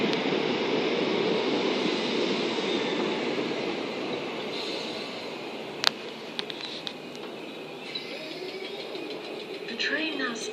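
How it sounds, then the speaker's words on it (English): A Southern Class 455 electric train at Brockley station on the Brighton main line, heard as a steady, loud rolling rumble that fills the whole clip, with brief squeals and clicks from the wheels partway through. "Train now standing at platform 2 is the 1522"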